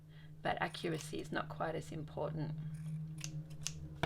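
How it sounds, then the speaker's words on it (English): Fabric scissors snip around a shape cut from fabric for English paper piecing quilting, giving quiet close clicks under steady talk. "I'm using my fabric scissors just to cut around that shape."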